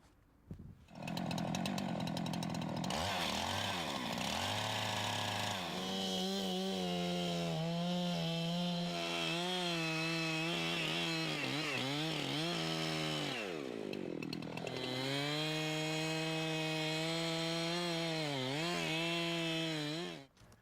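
A chainsaw makes a boring cut through a forward-leaning tree behind the hinge, its engine roaring loud and close for about twenty seconds, pitch rising and dipping as the bar plunges and works through the trunk.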